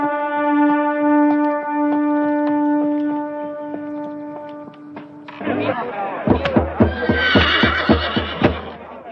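A horse whinnies in a long drawn-out call, then hooves and thuds break in, heavy clip-clop close by with a loud rush, in an old Serbian historical film scene.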